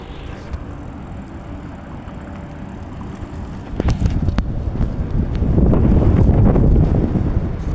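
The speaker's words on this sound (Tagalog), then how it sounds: "Lakas ang hangin pagbabike." Strong wind rumbles across the microphone while riding a bike on the way home from school, a loud low buffeting that grows heavier and gustier partway through.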